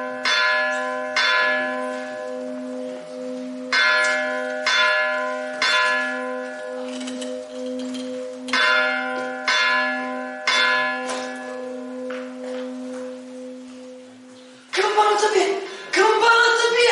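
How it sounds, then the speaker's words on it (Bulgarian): A church bell tolls repeatedly in a village on Good Friday, loud, sustained ringing strokes recurring with a steady rhythm, followed near the end by a burst of shouting voices. "Камбаната бие!"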